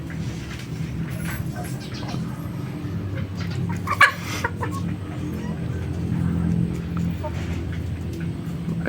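Backyard chickens cluck on and off at moderate distance on a small farm after a typhoon, with a brief louder squawk midway, over a steady low background rumble and someone talking throughout.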